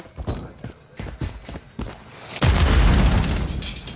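Grenade explosion in Call of Duty MW3: a run of rapid thumping game sounds gives way to a sudden loud, rumbling boom that sustains heavy low-end blast noise to the end.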